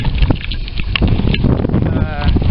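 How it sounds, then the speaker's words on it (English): Strong north wind buffeting the microphone at a campsite in Big Bend after a front passed: loud rumbling gusts with some rustling, and a person speaking underneath. "the wind switched from moderate breeze out of the south to strong wind out of the north"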